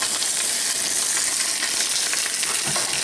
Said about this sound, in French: J'ai séparé haut de cuisse et cuisse ici pour que ce soit plus pratique. Donc on va les faire revenir avec une légère coloration blonde.